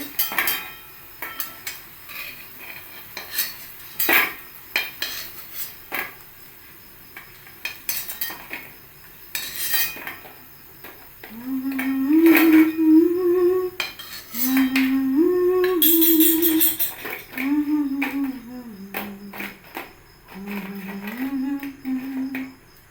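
Fried urad dal fritters are lifted out of a frying pan, with scattered metallic clinks and taps of a utensil against the pan and a sustained melodic tone running underneath for much of the time.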